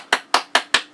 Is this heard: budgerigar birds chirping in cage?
no